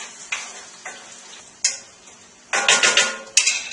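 White beans being stirred in a pan, with a series of scraping, sizzling strokes that repeat in an irregular rhythm, close and fairly loud, and no voices.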